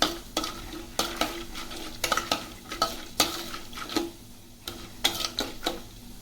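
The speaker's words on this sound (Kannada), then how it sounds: "ಸ್ವಲ್ಪ ಕಡಲೆಬೇಳೆ, ಸ್ವಲ್ಪನೇ ಶೇಂಗಾ. ಚೆನ್ನಾಗಿ ಫ್ರೈ ಮಾಡ್ಕೊಳ್ಳಿ." Chana dal and peanuts frying in a pan for vangi bath, with a soft sizzle under repeated scraping stirs and clinks of a spoon on the pan at a loose, uneven rhythm, close and fairly quiet, without speech.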